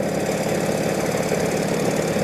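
A 1948 Indian Chief motorcycle engine drones steadily while riding at about 40 to 45 mph on a backcountry road, a loud, continuous rumble with wind noise throughout and no talk.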